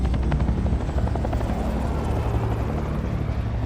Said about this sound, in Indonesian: Helikopter pengangkut tahanan ini